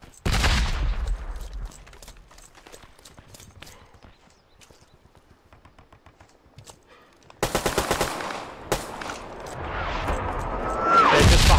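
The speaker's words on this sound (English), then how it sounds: "Those are good rounds. Good arty rounds." Artillery fire in the World War II shooter Hell Let Loose: sharp, loud reports and rattling volleys burst at the start, a quieter stretch of scattered distant pops follows, then heavy blasts return close and loud near the end.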